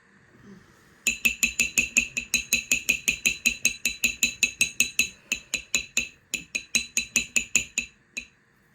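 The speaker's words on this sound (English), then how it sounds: "I really hate tapping my tiles, but sometimes it is the only way" Tiles for pastel coasters being tapped: a long run of sharp, bright clicks in a steady rhythm of about four per second, close and crisp, with a few short pauses and one final tap.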